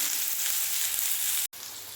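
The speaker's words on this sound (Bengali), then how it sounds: "পটল ভেজে নিয়েছি ভালো করে" Pointed gourd (potol) pieces salted and frying in a pan, a continuous dense sizzle filling the whole moment with one brief dropout near the end.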